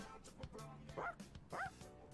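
Cartoonish dog barks and yips from a video game, two short bright barks with small whimpering tones, fairly quiet among soft game sounds.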